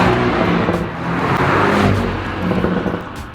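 A Porsche Boxster 718 T petrol engine revs steadily and loudly for a few seconds, its tone rising and falling slightly, with no voices.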